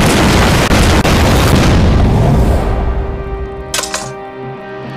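A massive artillery bombardment blasts an enemy position in a war film, a loud sustained roar of explosions that rolls on for nearly three seconds, then fades into rumbling debris with a last sharp crack.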